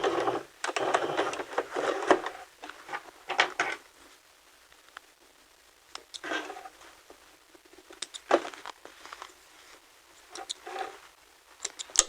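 A sewing machine stitches and back-stitches the facing of a skirt in short bursts of needle clatter, several runs separated by pauses, close and moderately loud.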